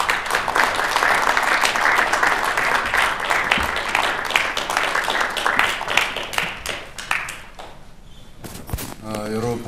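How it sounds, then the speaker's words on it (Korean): A hall audience at a Korean Christian pastors' council gathering on peaceful unification gives sustained, dense applause to welcome Minister Ryu Gil-jae. The clapping fades near the end as a voice begins speaking. "우리 유길재 장관님을 박수로 맞겠습니다."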